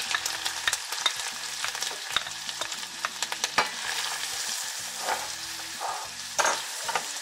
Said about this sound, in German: Sobald die Butter geschmolzen ist, geben wir unsere Zwiebeln dazu und schwitzen diese an.